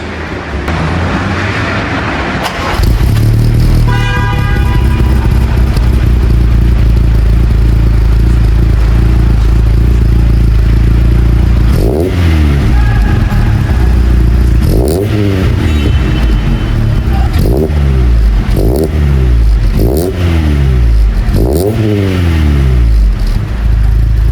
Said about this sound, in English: let me just put my phone here at the back of the Bakkie so that you guys can properly hear a cold start